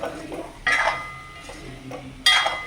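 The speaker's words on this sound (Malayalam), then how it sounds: "ഇനി നല്ലോണം നമ്മളൊന്ന് മിക്സ് ചെയ്ത് കൊടുക്കാം" A chicken roast with garam masala is stirred in a pan, giving soft scraping and two sharp, loud clanks of a utensil against the metal, close by.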